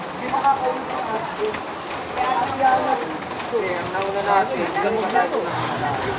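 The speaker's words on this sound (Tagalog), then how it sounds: "Pag hindi tumigil tong ulan" Steady rain pattering on a campervan, with irregular drips and splashes mixed in and people talking underneath.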